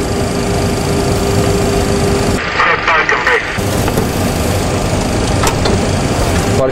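The No. 2 engine of a Boeing 737-CL hums and whines steadily from inside the cockpit after start, with a brief clattering mechanical burst midway and crew voices over it.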